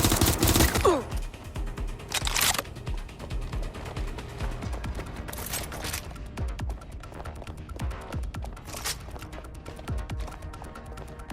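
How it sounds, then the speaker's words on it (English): Rapid bursts of gunfire in the video game Watch Dogs: Legion crackle continuously with occasional heavier blasts and impacts, loud and dense throughout, with no voices. "Gunfire!"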